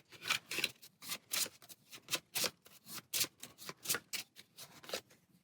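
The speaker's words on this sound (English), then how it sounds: "shuffle this card back into the deck and draw a replacement" Cards shuffled repeatedly during a Bardsung board game session, a steady run of crisp riffling bursts, close and fairly loud, with no talking.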